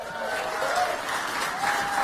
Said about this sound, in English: And they all clap.